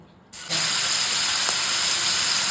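Paneer frying in ghee in a pan bursts into a loud, steady hiss after a quiet moment, the sizzle rising sharply and then holding close and even to the end.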